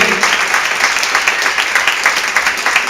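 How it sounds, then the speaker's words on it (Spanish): A church congregation applauds steadily, dense clapping sustained throughout at a fairly loud, close level. "Dale un aplauso grande"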